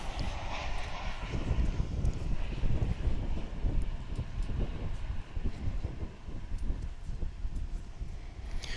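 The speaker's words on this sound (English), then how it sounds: "American Flight 2722 coming in from Reno," An American Airlines jet arriving from Reno, Nevada, roars low and steady as it comes in at Dallas/Fort Worth International Airport, a broad engine rumble with wind noise and no voices.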